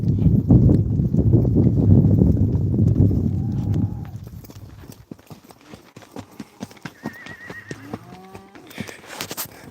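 A Mustang, a former wild horse, clip-clops along with dense, rapid hoof beats that fade after a few seconds into scattered single steps, then a short whinny-like call near the end.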